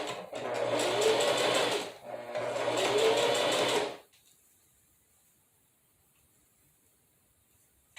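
Sewing machine stitching a hair weft onto the narrow edge of a lace closure wig, running in two close, steady bursts with a brief pause between them, then stopping into near silence.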